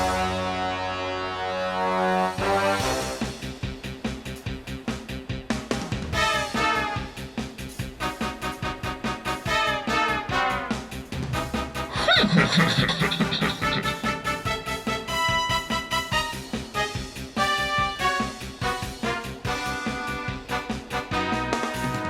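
Bright, synthetic-sounding orchestral Dragon Quest XI soundtrack built from MIDI samples, with sampled strings and brass, steady and fairly loud throughout, no voices.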